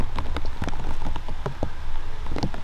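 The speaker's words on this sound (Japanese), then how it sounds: "なんかすんげえ雨降ってきてんね。" Heavy rain falls in a misty forest near Bouzov in the Czech Republic, a dense, steady patter of drops striking leaves and ground close by, with no talking.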